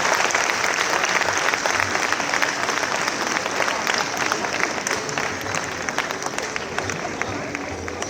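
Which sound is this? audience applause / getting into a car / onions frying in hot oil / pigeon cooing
audience applause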